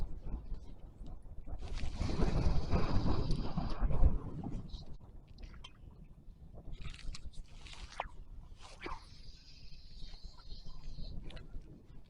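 Wind blows across a lake on a windy day of bass fly fishing, a faint low rumbling buffet that swells into a stronger gust early on, then eases to softer, intermittent gusts and light rustling.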